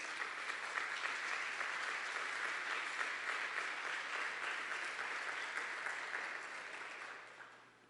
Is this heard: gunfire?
no